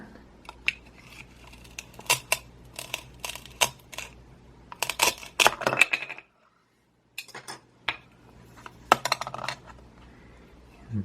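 A knife cuts through a toy velcro potato on a cutting board, giving a series of sharp clacks and ripping taps, close and crisp, with a brief silent gap before more knocks and tears.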